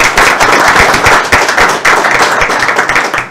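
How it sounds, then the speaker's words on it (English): A crowd at an annual general meeting applauds steadily, a dense wash of clapping with individual sharp claps standing out, loud and sustained throughout. "they deserve a round of applause."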